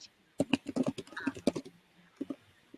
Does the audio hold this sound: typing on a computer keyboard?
yes